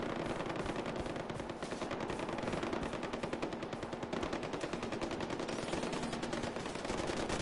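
Sustained rapid machine-gun fire in the video game Far Cry 4, a dense, continuous rattle of shots at steady volume with no pauses.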